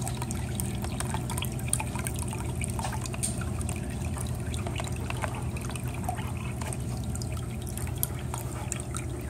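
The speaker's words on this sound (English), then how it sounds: "The water's decided to come out here, but that would just be where it shoots off to a second basket on the side." Water trickles steadily out of the overflow of a homemade fish fry raising setup, a constant close splashing hiss with no pauses and no voices.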